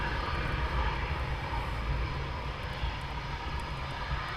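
RAF Eurofighter Typhoon jets taxi at Coningsby, giving a steady, continuous engine roar with a deep low rumble and broad hiss that holds level and close throughout.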